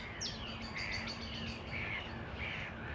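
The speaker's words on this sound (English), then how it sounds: "that bird that was just singing in the trees just here is the chiff-chaff, because it sounds like it's singing its name" A chiffchaff sings in woodland at a nature reserve, a string of repeated high chirping notes close by over a soft steady background hum, with no voices.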